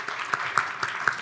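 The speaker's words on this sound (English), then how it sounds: "we're gonna applaud through the whole dang thing" Audience applause at a fundraiser breakfast honoring sponsors, a steady wash of clapping with a few louder individual claps standing out at a moderate distance.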